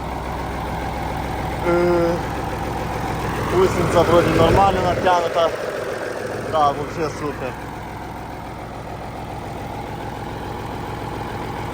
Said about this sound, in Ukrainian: Ну цей мотор працює